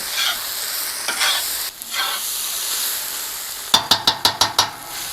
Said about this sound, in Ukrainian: Тепер гарно перемішуємо все.